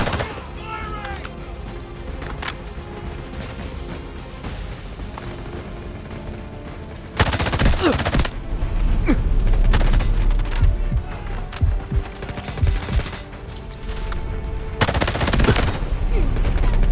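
Gunfire in the mobile shooter game Delta Force, in attack-and-defend mode: near rapid automatic bursts and booming shots erupting loudly in two heavy stretches, with quieter distant shots and game voices in between.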